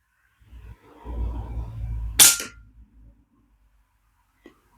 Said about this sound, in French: Premier tir. Je vise la cible en bas à gauche.